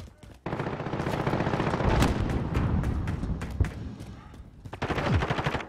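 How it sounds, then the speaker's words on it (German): Rapid automatic gunfire in Call of Duty Modern Warfare multiplayer, dense bursts and single loud shots filling the scene, with a sharp crack near the middle and renewed firing at the end; a faint voice is barely present. "Werde hier beschossen."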